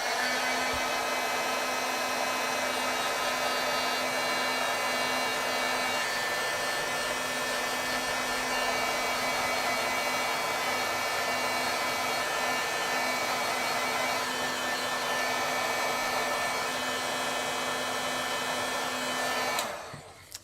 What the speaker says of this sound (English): let me hit this with a little bit more heat